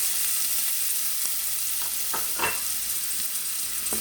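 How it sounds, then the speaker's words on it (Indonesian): Onion, ginger and garlic sautéing in hot oil for a goat-meat dish, a continuous close hiss with a few brief stirring clinks and sputters breaking through. "sekarang aku lanjut mau numis bawang, jahe sama bawang putihnya ini buat muselek ya"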